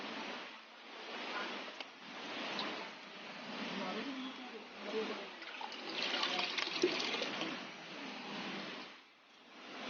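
Fish released into a naturally set up home pond, with continuous close pouring and splashing water that swells and eases over several seconds while someone talks.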